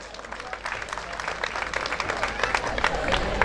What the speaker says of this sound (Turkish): Alkışlar onlar için gelsin lütfen.